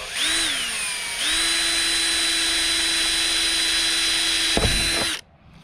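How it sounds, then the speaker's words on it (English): A power drill pre-drills a hole during an expedition truck build, a steady high whine that briefly spins down near the start, then runs on at constant speed and stops with a short rattle, close and loud. "Gonna pre-drill."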